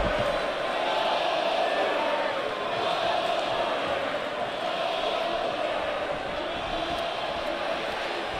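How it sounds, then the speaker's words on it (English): Video game crowd noise from WWE 2K23 during a WCW Monday Nitro show, a steady, dense arena roar with a chanting texture that holds at constant loudness throughout. "You can hear the crowd chanting."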